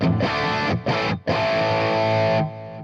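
An electric guitar played through an XTONE pedal with its boost switched on gives thick, distorted chords: two short stabs, then a long sustained chord that rings out loudly and cuts off cleanly.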